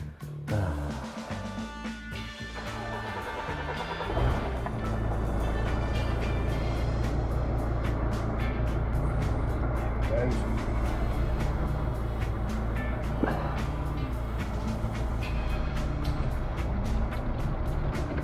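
A car engine idles steadily while the power steering is turned to full lock both ways to bleed the steering rack. A continuous low, even hum runs throughout, with a slight rise in level around four seconds in.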